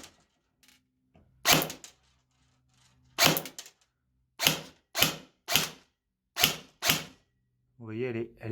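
AM-016 Amoeba airsoft replica firing 0.20 BBs on semi-auto through a chronograph, about eight sharp separate shots in an uneven rhythm, close by, with a brief voice near the end.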